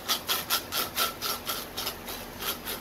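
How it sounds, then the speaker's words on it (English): A handheld basil grinder works dried basil over a dish headed for a 375-degree oven, giving a rhythmic series of about ten close, raspy grinding strokes with no voices. "Might give it a little grate of this. I got a basil grinder."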